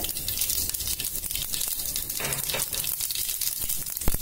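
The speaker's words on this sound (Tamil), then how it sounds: "எண்ணெய் நல்லா காஞ்சோன்னே கடுகு போட்டுக்கோங்க" Mustard seeds crackle and sizzle in hot sesame oil in a pan, a steady close frying hiss with scattered sharp pops throughout.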